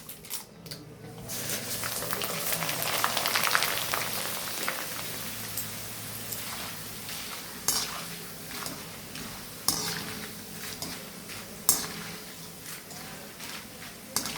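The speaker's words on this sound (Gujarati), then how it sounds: "હવે આપણે આ ગરમ તેલમાં મકાઈના જે પૌવા હોય છે એ નાખવાના।" A dense crackling sizzle of maize flakes frying in hot oil for corn chivda, with sporadic sharper pops and clicks, no talking.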